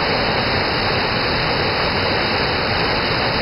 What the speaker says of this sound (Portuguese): Curtindo aqui as águas geladas na Cachoeira del Biose